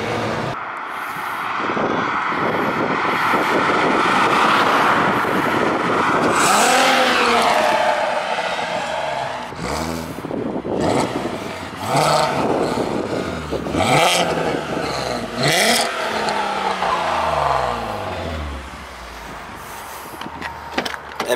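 A Volkswagen Golf MK5 R32 exhaust is heard from inside the car while driving, giving a loud rumbling drone with several rising revs and gear-change swells, and bursts of crackle between them.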